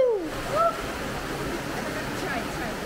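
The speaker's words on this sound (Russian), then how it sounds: "Смотри, какая тут река. Бурная. Класс, да, дочка? Шумно." A steady wash of a turbulent river in Baden-Württemberg, Germany fills the scene, loud and constant, with a brief voice or bird-like whistle near the start.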